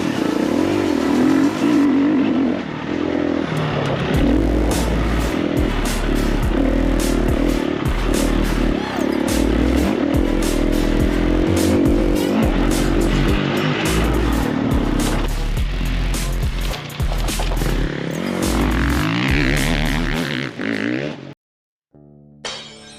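A motocross dirt bike engine revs loudly and close, surging and dropping in repeated throttle bursts for most of the stretch, then cutting out abruptly near the end.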